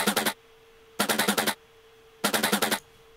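Unprocessed synth sample from a sample pack, three bursts of rapid stuttering bright pulses, each about half a second, separated by gaps with a faint steady tone, dry and close.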